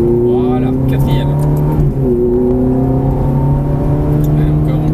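Ferrari F430 race car lapping the Croix-en-Ternois circuit, engine droning steadily at high revs with a brief dip and gearchange, pitch then climbing again; loud and close throughout, with a voice talking over it.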